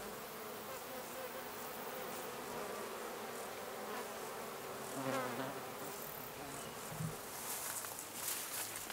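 Bees buzz in a soft, continuous drone outdoors, with a louder hum as one passes near the listener.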